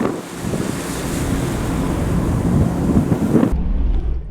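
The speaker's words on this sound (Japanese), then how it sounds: "波の音を聞きながら進んでいくのもいいものですよ" Steady rush of sea waves and surf with wind buffeting the microphone, heard from the deck of a ferry crossing from Tokushima port, loud and continuous, with the wind noise dropping away near the end.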